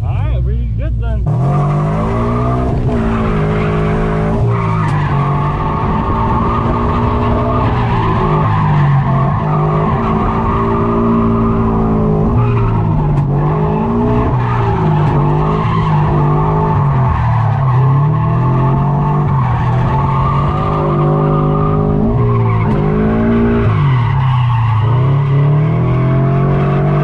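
A Subaru BRZ drift car at a night event roars at high revs while its tires squeal and skid nonstop, the engine note rising and falling through the slides, loud and close from inside the car, with people talking over it.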